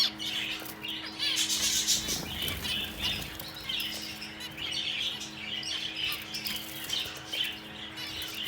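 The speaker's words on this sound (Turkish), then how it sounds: "Burada da Hint bülbülleri var." Indian bulbuls, a flock of around sixteen birds including young ones, chirp steadily outdoors with high twittering throughout and a brief flutter of wings in the middle.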